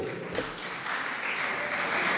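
An audience at a Jain religious sermon breaks into steady applause, a dense wash of clapping lasting a couple of seconds with no talk over it.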